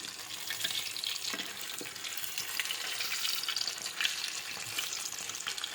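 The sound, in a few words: pond fish frying and splattering in oil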